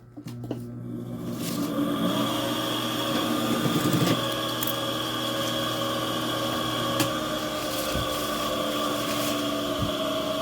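A sewing machine stitching a simple fabric bag gives a steady, close mechanical whirr that holds for the whole stretch, with a few faint knocks near the end and no talking.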